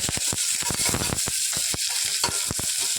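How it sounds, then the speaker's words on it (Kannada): Onions, spices and curry leaves fry in a hot pan with a steady, dense sizzle. A quick series of sharp metallic scrapes and clicks from stirring is layered over it, close up, with no talking. "ಸ್ಪೈಸಸ್ ಹಾಕ್ಕೊಂಡು ಸ್ವಲ್ಪ ಕರಿಬೇವಿನ ಸೊಪ್ಪು ಹಾಕ್ಕೊಂಡು ಇವೆಲ್ಲ ಒಂದ್ಸಲ ಫ್ರೈ ಮಾಡ್ತೀನಿ"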